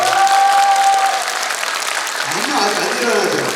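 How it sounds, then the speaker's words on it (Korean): Applause from the audience at a kindergarten recital, a thick continuous clatter of many hands at close range, with a brief voice rising over it near the start. "박수 소리가 잠깐 안 일어나요."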